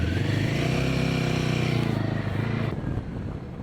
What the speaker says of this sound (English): I can still hear the trustworthy little thumper noise, at higher RPM, this single is really working hard